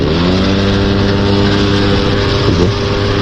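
A loaded motorcycle engine runs at high RPM on a night ride, a loud, steady droning roar with a slight pitch shift toward the end and no talking.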